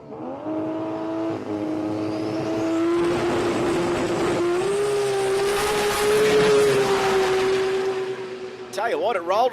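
A drag race car makes a pass down the track at the Brisbane Jamboree 2025, its engine a loud sustained howl that climbs steadily in pitch with the tyre rolling over, with commentary voices faintly underneath.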